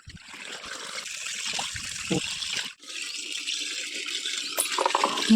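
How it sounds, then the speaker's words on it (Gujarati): Water trickles and splashes steadily as farm cattle drink, a soft, continuous liquid sound close by with a brief dip partway through. "બધા જ પશુઓ પાણી પી રહ્યા છીએ।"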